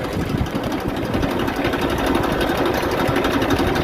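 A tractor engine runs nearby on a village farm while manure is being spread, a steady rapid chugging rattle at constant loud level, with no voices.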